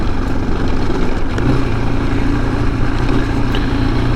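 A 2007 KTM 690 SM single-cylinder motorcycle engine hums steadily under way, a continuous low drone with wind rush, no speech, holding an even level throughout.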